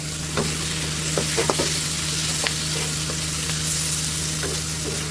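Dried fish (shutki) stir-fries in a pan with a steady, loud sizzle and a low hum beneath it, broken by a few faint clicks of stirring. Close, with no voices.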